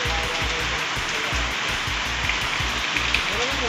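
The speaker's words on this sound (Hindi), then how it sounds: "ये बारिश पड़ रही है" Heavy rain pours down during a storm at night in Narayanpur, a steady loud hiss of drops hitting surfaces with no letup throughout.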